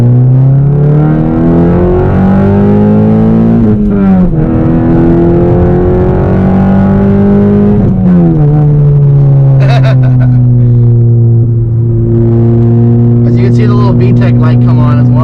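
A 9th gen Honda Civic Si pulls hard uphill through the gears, its engine droning loud and close with rising pitch, sharp drops at each shift, and a higher-pitched wail as VTEC engages late in the run.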